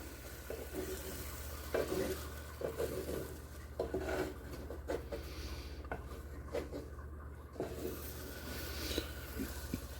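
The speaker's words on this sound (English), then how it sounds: "I'm just scraping it towards the end to get more of the liquid to come and cook for a little bit" Spatula scraping scrambled omelette eggs around a frying pan, repeated soft scrapes and strokes over a constant low sizzle and stovetop hum, close and steady.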